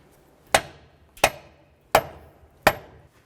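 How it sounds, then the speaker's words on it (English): A rubber mallet strikes a bushing as it is seated into a lower control arm on a 2009-2020 Dodge Journey, landing four evenly spaced, close, solid knocks with short decays and no talk. "So all I'm going to do is use a nice rubber mallet, give it a couple loving bonks to get it in position."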